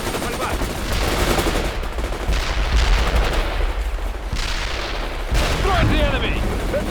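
Dense battlefield gunfire from the World in Conflict video game, with rapid machine-gun bursts and heavy booming shots in continuous loud waves, mixed with voices and game effects throughout.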